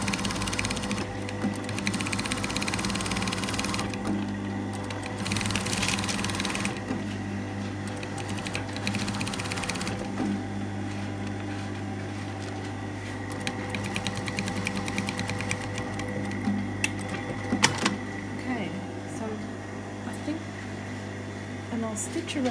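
A sewing machine stitches the collar of a tunic, running in several short bursts of rapid mechanical whirring and clatter, close and clear, with someone talking quietly between runs.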